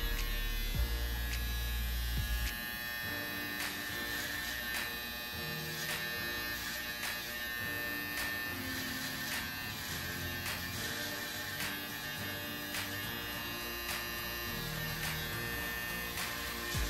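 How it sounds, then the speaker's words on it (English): Electric hair trimmer buzzing steadily during a self-administered haircut, a constant close, fairly quiet whine with slight shifts as it moves through the hair. "reset the trimmer and everything and get that good cut"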